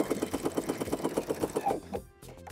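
A sewing machine fitted with a twin needle stitches down the edge of fold over elastic in a quick steady rhythmic run of needle beats, close and clear, before stopping abruptly near the end.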